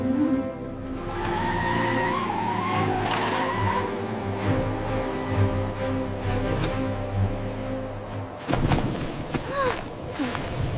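Cartoon vehicle skidding on black ice in a blizzard, with a rough sliding rumble and squealing tones under a character's voice, then a sharp burst near the end.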